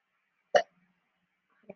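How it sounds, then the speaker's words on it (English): A person hiccups twice during a geometry lesson, one sharp close hiccup followed a second later by a fainter one, with silence around them. "Hiccups."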